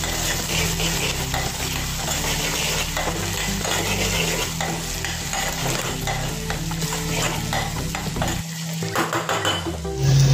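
Garlic and ginger paste fries in a pan for a spicy Indian dish, a constant loud sizzle broken by repeated scrapes and clinks of a spoon stirring against the metal, with no one talking.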